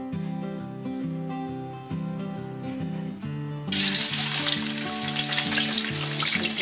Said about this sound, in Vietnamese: Bây giờ mình sẽ để vô mình chiên nha.